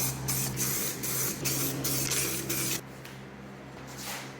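Spray paint goes onto car wheels for a second coat, a series of short hissing bursts in quick pulses close to the mic, followed by a quieter tail as spraying stops.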